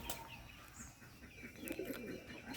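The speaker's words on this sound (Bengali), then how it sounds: "এই যে গিরিবাস অনেক সুন্দরভাবে ডাকে" Giribaz pigeons from Rajshahi, kept in a loft alongside Bombay and other pigeons, cooing in low soft murmurs with faint flutters and chirps in a noisy, indistinct background.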